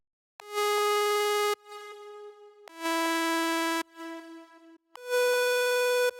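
Plucky synth lead from a melodic dubstep remix, played dry with no effects: three sustained bright harmonic notes, each ringing about a second with softer tonal tails between, loud and alone.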